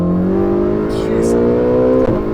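A modified Ferrari 458 or 488 engine revs hard toward the red line, a loud rising howl that climbs steadily in pitch, then cuts abruptly near the top.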